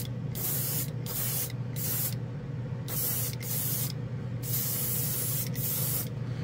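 A Master G79 airbrush sprays unthinned paint in a steady close hiss, broken by a few short pauses as the trigger is released.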